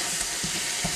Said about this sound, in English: I've got about 300 grams of minced beef here that I'm going to be just browning off now.